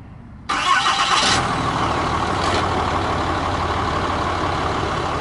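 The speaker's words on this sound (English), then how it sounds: "I'm going to go ahead and start it up. It's a diesel, so it takes a minute for it to start up" A cold 2015 RAM 2500 diesel pickup cranks and fires after a short pause, a sharp loud onset settling into a steady clattering diesel idle, heard up close with no talk.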